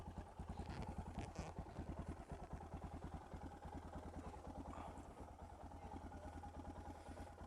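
A Suzuki DR650SE motorcycle engine with an FCR-MX carburetor idling close by, a fast steady putter with a slight uneven chug, running continuously.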